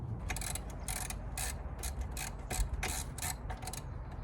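A ratchet clicks in fast bursts while a new alternator pulley is fitted on a Toyota Celsior, close and fairly quiet with rhythmic mechanical ticking throughout.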